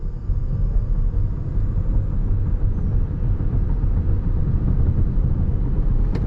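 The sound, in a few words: Toyota Mirai 2021 accelerating on throttle in sport mode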